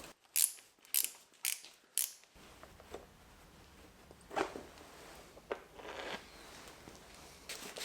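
Tools work at the distributor on a Caterham Super Seven's Kent engine, with a few sharp metallic ratchet clicks and knocks at first, then quieter scattered mechanical handling noises.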